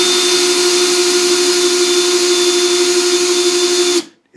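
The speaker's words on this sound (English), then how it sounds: "As you can see, it's not obviously drilling very fast." A power drill bores slowly into porcelain bathroom tile, a steady, loud, high whine with a strong constant hum that runs without a break for about four seconds before cutting off abruptly.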